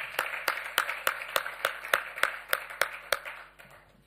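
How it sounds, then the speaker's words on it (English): An audience at a memorial lecture claps hands in steady, evenly spaced sharp claps, about a dozen over four seconds, moderately loud and fading slightly at the end with no talking. "Can we clap hands for Mr. Majozi?"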